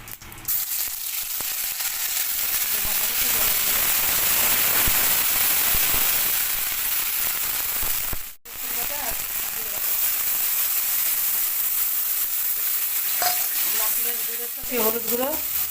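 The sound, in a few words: ginger paste frying in oil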